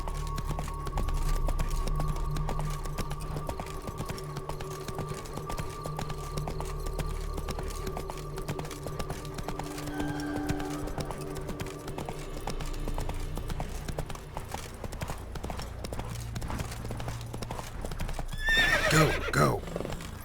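Horse Roach galloping in a video game, steady rhythmic hoofbeats with a neigh near the end, over a low background.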